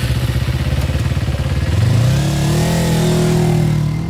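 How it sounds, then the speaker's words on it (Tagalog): A small tricycle engine putters steadily, then revs up and settles into a louder, smoother drone as it pulls away. "Tahimik lang kami ni Jericho hanggang sa sumakay ng tricycle."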